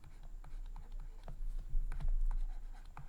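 Pen scratching across paper while a maths integration solution is handwritten, a steady run of soft scrapes and small taps, close and quiet, with no talking.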